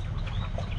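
Ducks quack in short, close calls at a farm pen where hungry ducks are being fed, one brief, steady burst of sound.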